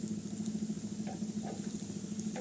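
Besan dhirde, a gram-flour pancake with green chilli, onion, coriander and garlic, frying in oil on a tawa being tilted; a soft, steady sizzle with faint stirring crackles, close and low in level.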